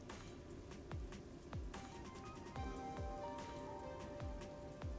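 Steady rain falls over a busy neon-lit city district in the video game Master Detective Archives: Rain Code, a constant soft patter with individual drops tapping close by, and no voices.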